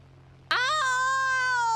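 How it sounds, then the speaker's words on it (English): A cat gives one long meow, a sudden close sustained cry that holds steady for over a second before cutting off. "Look at this kitty."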